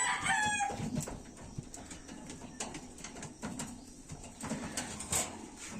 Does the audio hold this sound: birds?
yes